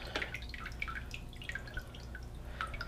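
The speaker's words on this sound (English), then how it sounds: "we're gonna carefully tilt to the corners here and drain the water a little bit more" Water draining from a papermaking mould and deckle as it is tilted toward the corners, with a steady patter of light drips and trickles, close and fairly quiet, no voices.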